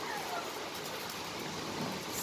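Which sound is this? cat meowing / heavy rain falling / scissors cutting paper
heavy rain falling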